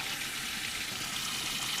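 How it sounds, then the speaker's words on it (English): Water flushing through a car heater core: a steady, loud hiss of rushing water with no break, close and with no voices. "So water should pass through at this point through the heater coil."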